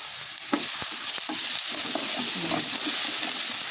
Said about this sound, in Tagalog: So, i-brown natin ang bawang dyan. Gamit ako ng ladle.